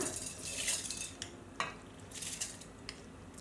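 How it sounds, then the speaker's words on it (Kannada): Soaked rice, rinsed and steeped for hours for sambar dosa batter, scraped and clinking into a mixer jar with a spoon, a few soft metallic taps and wet shuffling, close and quiet. "ಮಿಕ್ಸಿ ಜಾರಿಗೆ ನೆಂದಿರೋ ಅಕ್ಕಿ ಹಾಕ್ಕೊಳ್ಳೋಣ"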